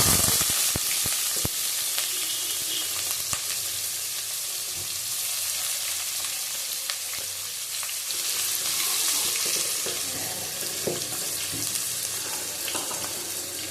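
Onions frying in oil with whole garam masala and cumin, a steady close sizzle broken by sharp clicks and scrapes of stirring, no talking.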